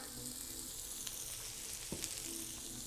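Sweet onion with black pepper frying over medium-low heat in a pan, a steady close crackling sizzle with a couple of soft stir clicks.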